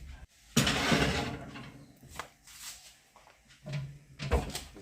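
An oven door swings shut in a home kitchen while dinner is prepared, giving a muffled thump with a rattle followed by several softer clunks and knocks at close range, with no talking.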